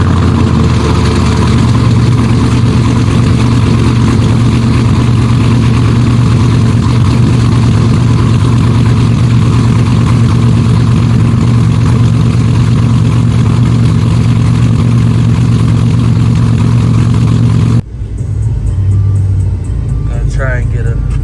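An LS-swapped OBS Chevy truck engine on a cold start, idling loud and close with a steady low drone for about eighteen seconds before it cuts off abruptly, followed by quieter background sound.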